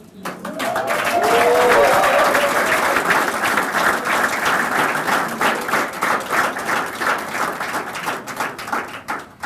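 An audience bursts into loud, sustained applause at a ceremony honouring Grenada's Olympic medal winners, the dense clapping swelling early and then slowly thinning into rhythmic claps, with voices mixed in at first.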